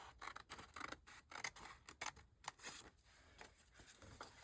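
Scissors cut paper for a junk journal page, giving faint, close snips and crisp paper rustles in a quick irregular series.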